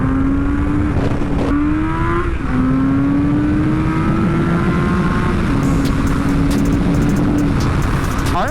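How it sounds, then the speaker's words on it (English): A 2003 Kawasaki ZRX 1200R motorcycle accelerates hard at full throttle, its loud, close engine note climbing steadily in pitch through the gears with brief dips at each shift, alone with no talking. "So I'm gonna give it full throttle right now."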